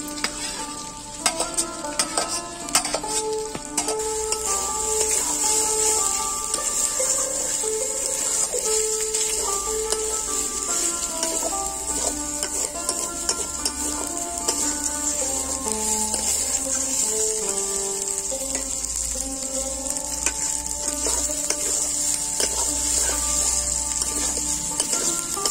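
Masala of fried onion and tomato sizzles in a pan for chicken curry, a steady crackling fry broken by repeated scrapes and clinks of a spoon stirring against the metal, with background music and no talking.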